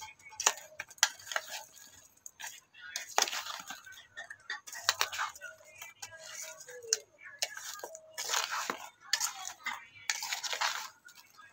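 Salt and sugar being mixed into mango pieces for a sour-sweet pickle, with quiet scraping and clinking of a spoon against the bowl in short repeated bursts while a voice talks throughout.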